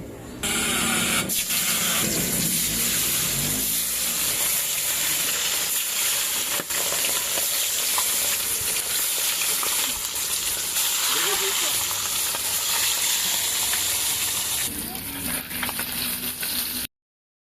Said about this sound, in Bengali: তেলটা গরম হয়ে গেছে, এবার একে একে মাছগুলোকে আমি তেলের মধ্যে ছেড়ে দেব।